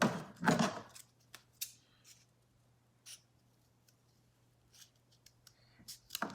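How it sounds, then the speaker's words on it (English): Scissors snip through paper to shape rounded flower petals, giving several short, crisp cuts at close range, spaced irregularly across quiet moments with a faint steady hum underneath. "so if you want to have rounded petals, you can cut them."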